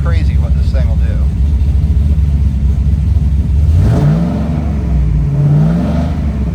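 A 2001 Chevrolet Camaro Z28 V8 revs up hard and roars, its deep rumbling engine note swelling and falling close by, with someone talking briefly over the idle beforehand.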